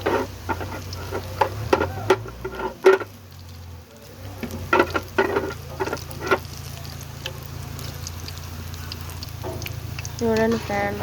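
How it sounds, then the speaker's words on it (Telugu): Mirchi bajji frying in hot oil, a steady bubbling sizzle with scattered clinks and stirring knocks that runs throughout, close and moderately loud, with a brief quieter dip partway through. "వేడి వేడి అప్పుడు ఇలాగ ఎర్రగా కాంచుకోండి ఫ్రెండ్స్"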